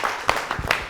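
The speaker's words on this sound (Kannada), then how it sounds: "ಜೋರಾದ ಚಪ್ಪಾಳೆ ಬರಲಿ" Audience clapping at a televised singing competition show, a brief dense burst of applause lasting under a second.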